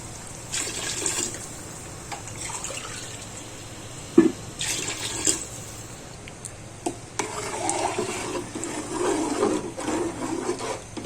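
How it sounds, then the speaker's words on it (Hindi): Water poured from a glass into a pot of cooked meat for Malegaon-style half biryani, a steady splashing pour with bursts and pauses as each glassful goes in, close by with no talk. "अब हम इसमें पानी डालेंगे।"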